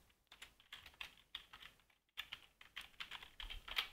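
Quick, irregular clacking of keys on a computer keyboard while code is being written, close and fairly quiet, with bursts of strokes broken by a short pause midway and no talk.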